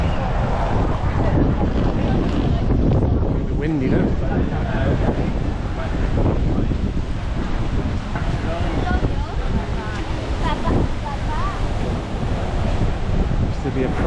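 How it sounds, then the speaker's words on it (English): Strong, steady wind buffets the microphone on a London street walk near a former priory church, a constant broadband roar running throughout with occasional gusts and faint voices underneath. "Windy, no?"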